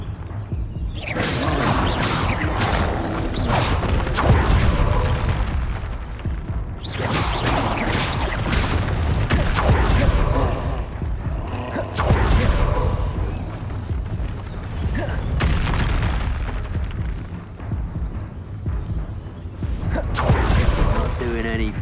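Fiery Confringo blasts from the Hogwarts Legacy video game, a series of loud bursting booms and whooshes recurring every few seconds over a dense, continuous game soundscape.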